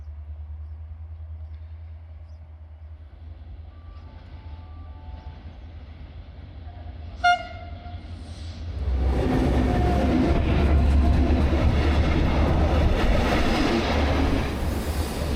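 Old 40-year-old Hungarian locomotive arriving at Tapolca terminus station, a steady low rumble with a brief horn-like tone, then a loud broadband roar of wheels and engine swelling near the end.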